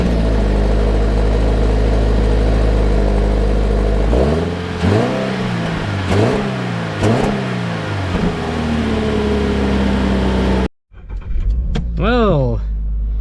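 A 2025 Toyota GR86 with the performance package idles, then revs hard several times in sharp rising and falling sweeps before settling back. After a brief cut, one more climbing rev is heard, and a voice speaks over parts of it.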